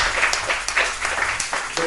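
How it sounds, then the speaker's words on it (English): A live audience claps and cheers for poets at a poetry night, dense steady applause filling the room with bursts of whoops throughout. "let me get a round of applause for those two poets so far"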